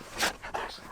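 Dogs in a house on a very windy day give short yelps and whimpering bursts close by, three quick vocal bursts within a second.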